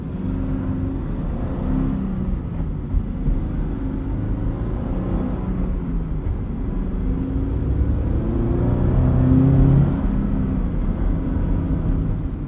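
A Subaru BRZ engine fitted with a Pedal Commander throttle controller accelerates with a low, steady drone that rises in pitch as the revs build, peaking loudly near the tenth second before easing off slightly.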